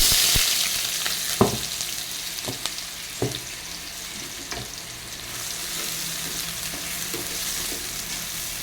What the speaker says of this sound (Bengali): আমার পেঁয়াজটা লাল করে ভাজা হয়ে গেছে